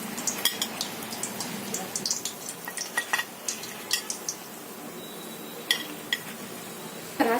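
Chicken cheese parcels frying in hot oil over a medium flame, a soft steady sizzle broken by scattered clinks and scrapes of a utensil against the pan, close by with no talk.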